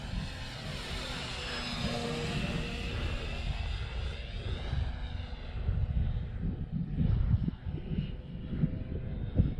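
Dynam Tiger Moth RC model biplane flying downwind at a park on a four-cell battery, its electric motor giving a steady loud propeller whine that shifts in pitch as it passes and swells toward the end, with no talk.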